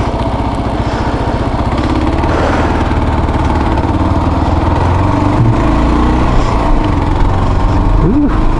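A motorcycle engine runs continuously during a ride, a loud steady throbbing drone with wind buffeting and small shifts in pitch as the throttle changes.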